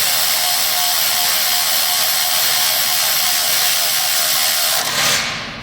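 Electric ratchet driving bolts down during a Honda Odyssey timing belt job, a steady loud continuous whirring buzz running for several seconds alone before cutting off abruptly near the end.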